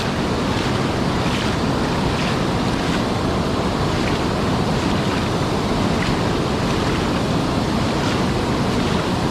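A swollen river rushes over falls in Pineville, Missouri, with dense, steady roaring water noise that stays loud and constant throughout. Wind buffets the microphone, and no voices are heard.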